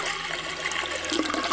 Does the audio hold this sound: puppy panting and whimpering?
no